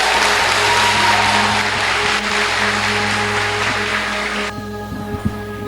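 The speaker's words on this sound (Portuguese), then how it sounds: "com a salva de palmas, vamos receber o nosso culto de Páscoa" Church congregation applauding at an Easter service, a dense sustained wash of clapping over a steady low hum, cutting off abruptly near the end.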